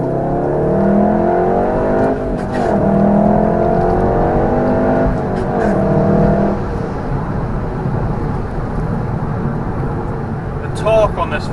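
A VW Golf R hot hatch accelerates hard, its engine note climbing steadily through the revs in close, loud sweeps before easing off, with a voice speaking faintly alongside.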